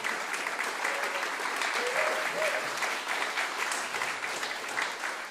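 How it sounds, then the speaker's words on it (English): Audience at a WoodSongs livestream folk concert gives a long, even round of applause, full and continuous throughout with a few faint voices underneath. "Give yourselves a big round of applause."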